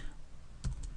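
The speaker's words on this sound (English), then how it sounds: "I'm going to type in Monday" Someone types on a computer keyboard, with a few quiet, close key clicks clustered near the end of a short moment.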